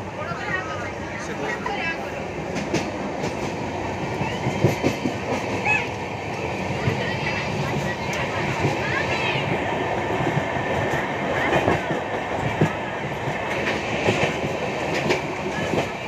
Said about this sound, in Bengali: এই যে ট্রেনে এখন উঠেছি আমরা, আর ট্রেন চলেছে তার গতিতে একদম